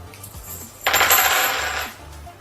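Metal coins clink and chime in a bright cluster during a coin vanish magic trick, ringing for about a second after a quiet start.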